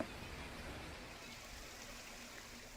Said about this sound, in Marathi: तुळजापूर नाका देखील हा जो ओढा आहे हा तुळजापूर नाक्याचा एक ओढा देखील इथे ओव्हरफ्लो झालाय